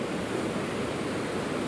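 Ocean surf on the Oregon coast, heard as a steady, close, broadband roar of breaking waves with no pauses and no voices.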